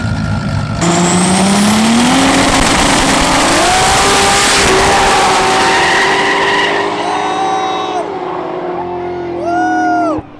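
Street drag race cars, a Mustang among them, roar loud and close, engines climbing through gears as they pull away, with a brief tire squeal and a second car's revs rising near the end.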